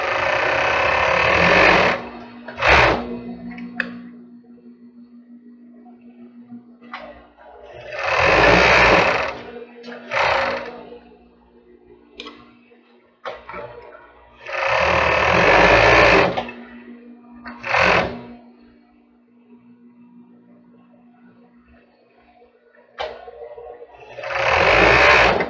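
Sewing machine stitching the four sides of the gusset on a pair of boxer-style panties, running in several loud bursts of rapid whirring separated by pauses, with no talking over it.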